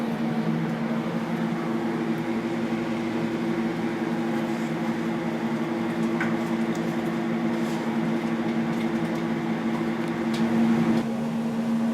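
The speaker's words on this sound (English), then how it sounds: "Once we're done cooking the bacon in the microwave" A microwave oven hums steadily while bacon cooks inside under a bacon shield, a continuous loud electrical drone with a faint pop near the middle, running alone until it stops near the end.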